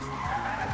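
A car in the Roblox video game skids in a single short, smooth tire screech with a sustained engine-like tone, lasting under a second.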